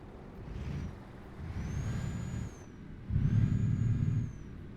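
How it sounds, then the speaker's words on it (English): Truck engine and air brake sounds from Euro Truck Simulator 2, a low rumbling drone that swells and drops over a few seconds, with faint high whines and hiss over it, fairly quiet and steady. "these trucks sound totally different."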